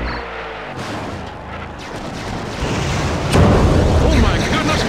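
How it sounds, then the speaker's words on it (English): Vehicles crash together in the car-combat game WWE Crush Hour: a heavy, rumbling impact that swells and grows louder toward the end, with game noise underneath. "Oh my goodness, what a collision!"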